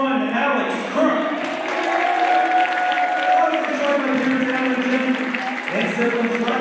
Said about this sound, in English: Let's have one more round of applause for Alex Crook.